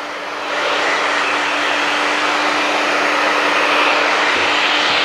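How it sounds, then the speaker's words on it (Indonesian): A hair dryer blows steadily on screen printing emulsion coated on a silk screen, a loud continuous airy whoosh with a faint motor whine that starts just after the beginning and holds level to the end, with no talk. "kita akan lanjutkan dengan proses pengeringan dengan hair dryer saja"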